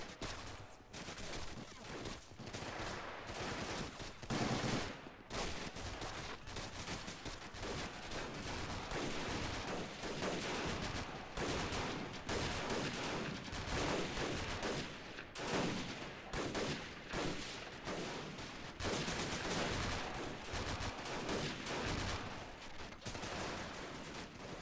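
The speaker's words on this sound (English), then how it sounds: "Taking a lot of long-range fire from back there by the house" Sustained machine gun fire and scattered rifle shots in a Men of War: The Pacific mod battle at Shuri Castle, dense overlapping bursts with booming impacts, continuous and loud throughout, with no talking.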